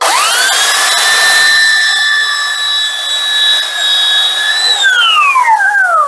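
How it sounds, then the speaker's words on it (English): A power tool shaves down the tip of a laminate countertop, a loud steady high-pitched whine holding for several seconds before the motor spins down in a falling tone at the end. "I'm actually gonna shave down the tip a little."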